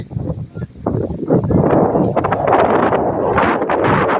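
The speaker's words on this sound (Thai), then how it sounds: "ตอนนี้ลมนะจ้ะพี่น้อง" Steady wind buffeting a microphone, a dense rumbling rush that swells and stays loud throughout, with some rustling mixed in.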